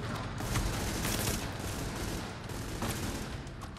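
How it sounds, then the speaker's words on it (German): Sawed-off shotgun sidearm firing in The Division, a dense burst of loud, overlapping gunfire that keeps going across the whole stretch, with sharp reports standing out near the start and again toward the end. "Eine Schrotflinte, eine abgesägte"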